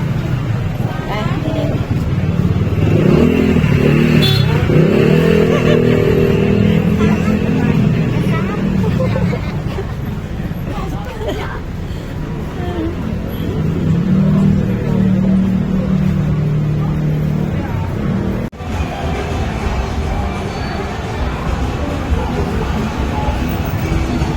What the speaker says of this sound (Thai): อนนี้เราก็จะนั่งรถกลับไปที่พักของเรานะคะ ซึ่งบริเวณที่เราผ่านมานี้ก็คือบริเวณหาดจอมเทียน